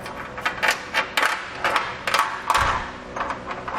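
Bolt hardware on a fish wire rattles and clinks inside the frame rail of a 2019 Subaru Forester during a Curt trailer hitch install, a series of sharp metallic taps close by, then a dull thud.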